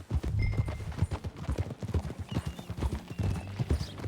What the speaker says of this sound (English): Get on your horse, John.